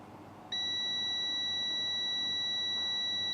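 Multimeter continuity tester sounds on a zero-ohm fuse marked 000 from a mobile phone board, one steady beep that starts abruptly and holds, close and clear, with no talk.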